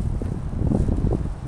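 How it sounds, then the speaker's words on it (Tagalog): Strong outdoor wind in Canada before snow, a steady loud rumbling buffet across the microphone with no pauses. "Lakas ng hangin."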